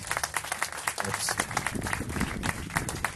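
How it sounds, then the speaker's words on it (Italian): Audience applause at an evening partner presentation event in Jesolo, a steady patter of many hands clapping with a speaking voice faintly over it. "E allora un applauso"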